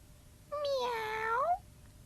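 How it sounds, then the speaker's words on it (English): In the children's TV show Tots TV, a single clear meow, about a second long, rises and then slides upward at the end against a quiet background. "One day, Mr. Noah heard Cat calling him."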